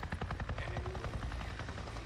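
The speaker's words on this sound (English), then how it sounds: "There's a helicopter?" Helicopter in the video game Days Gone, a steady loud rotor chop with thumping low beats running throughout, close and unbroken.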